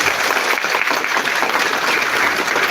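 An audience at a live stage show breaks into dense, loud applause that stays even and sustained throughout, with no voices over it.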